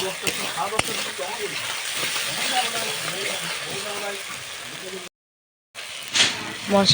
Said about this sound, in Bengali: সেই জন্য মশলাটা আরও বার কয়েকবার কষিয়ে নিচ্ছি